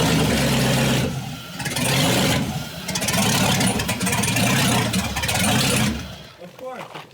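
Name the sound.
Chevy V8 engine in Volvo revving, open downpipe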